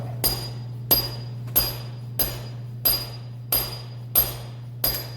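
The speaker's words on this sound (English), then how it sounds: "What we're gonna do is smack the bottom of this a few times" Eight sharp, evenly spaced knocks ring out as the bottom of an ATV shock absorber is smacked during reassembly and oil filling, each a bright metallic hit over a steady low hum.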